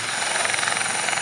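Royal Navy AgustaWestland AW Wildcat HMA2 helicopters performing at the ILA 2016 air show, a loud, steady rotor drone with fast, rhythmic blade pulsing, close and unbroken.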